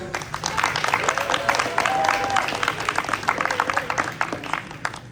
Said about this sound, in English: let's give a round of applause for our outgoing VP of Finance, Pragya